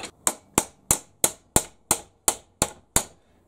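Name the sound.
spanner used as a hammer, hitting metal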